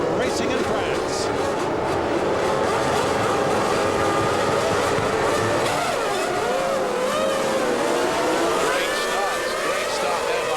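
Formula 1 cars of the 1999 French Grand Prix roar away from the start, a loud, continuous rising engine whine with shifting pitch sweeps under steady commentary.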